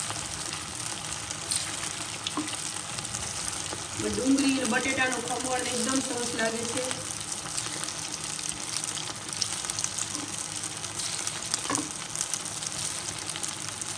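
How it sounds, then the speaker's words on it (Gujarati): Leftover-rice vadi fritters frying in hot oil give a soft continuous sizzle, with someone talking over it for several seconds in the middle. "હવે આપણું તેલ આવી ગયું છે, તેમાં આપણે આ બધી વડી છે તે સરસ એમાં તળી લઈએ।"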